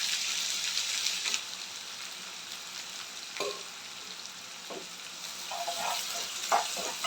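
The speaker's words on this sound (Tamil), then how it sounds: "வெங்காயம் கொஞ்சம் கலர் மாறட்டும்" Chopped large onions sauté in a pan for a ladyfinger kara kulambu, making a soft, steady sizzle with occasional stirring scrapes and taps.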